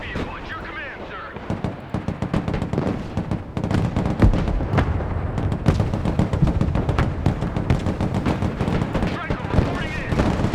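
Artillery fires in the military strategy game Broken Arrow, loud repeated booming blasts and crackling barrages building from a quieter opening into sustained heavy fire, with voices speaking over it.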